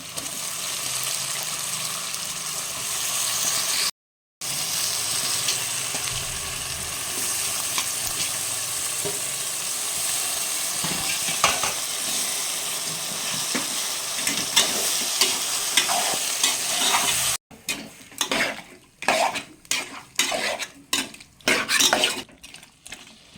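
Village country chicken curry sizzles steadily as it fries in a pan and is stirred, with a brief break partway through, then gives way to choppier scraping and clinking stirring strokes near the end.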